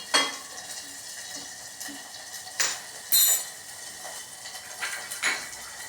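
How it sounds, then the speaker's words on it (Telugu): Spices fry lightly on a low flame in a lidded pan, a faint sizzle broken by several sharp metallic clinks of utensils and lid, with no one talking. "మూత పెట్టాను సిమ్లో ఉంచి లైట్గా వేగించుతాను"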